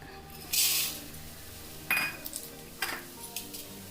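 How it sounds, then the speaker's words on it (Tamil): Chana dal roasting in a pan for a kootu, stirred with a metal utensil: bright scrapes and clinks against the pan over a faint sizzle, close by, with no voices. "அடுத்தது கடலைப்பருப்பு போட்டுக்கலாம்."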